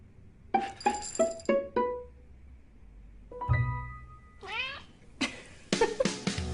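A cat meows several times in short bursts, mixed with bright glassy clinks and chimes between the calls.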